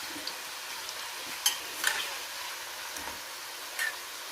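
Khand pare sizzle gently in oil over a low flame, a steady soft frying hiss with a few light clicks and taps from a utensil, no one speaking.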